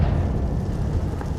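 Confringo fire spell cast in the Hogwarts Legacy video game, a loud rumbling burst of explosive noise that stays dense and sustained across the whole short moment, with no talk.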